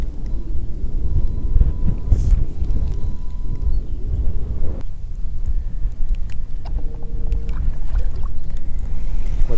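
Wind gusts buffet the microphone in a steady, rumbling roar beside a lake during trout fishing, with faint tonal hums and small knocks scattered through the gusts.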